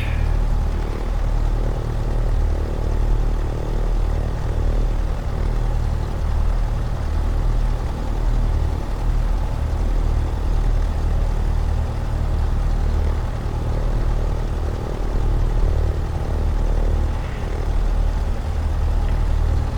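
A Cessna 152 engine runs steadily in Microsoft Flight Simulator with the Boris Audio Works sound pack, making a continuous low, droning propeller rumble at an even level that stays up close throughout.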